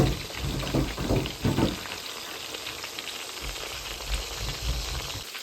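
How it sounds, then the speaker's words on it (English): Chicken wings fry in hot oil with a steady, close sizzle and crackle, louder bursts of spitting early on before settling into a constant hiss. "we're going to fry off the wings"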